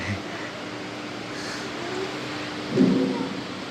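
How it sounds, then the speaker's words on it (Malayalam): Heavy rain pours down in a steady, dense hiss with a low rumble underneath, continuing without a break, at Konni Eco Tourism in India. "പെരും മഴയായിപ്പോയല്ലോ ദൈവേ"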